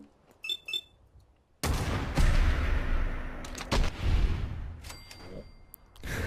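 Rifle gunfire in the Fallout 4 video game: a few light clinks, then a loud, sustained barrage of booming shots and explosive reports echoing close by, with sharp individual cracks within the roar.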